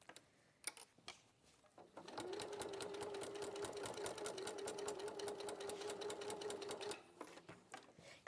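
Sewing machine stitching a seam on a bag, a steady rapid whirring hum with fast regular needle clicks for about five seconds after a few handling taps, close, no speech.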